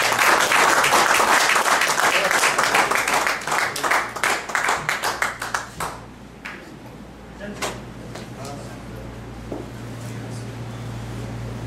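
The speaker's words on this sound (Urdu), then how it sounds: "میں آپ تمام کی تالیوں میں ان کا استقبال کرتا ہوں" Audience applause welcoming a poet at a mushaira in Dammam, a dense burst of clapping that fades after several seconds into scattered claps over a steady hum.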